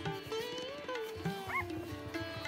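Young puppies, only five or six days old, whimper and yip in thin, rising high-pitched cries, repeated in short bursts close by, with faint low sounds underneath.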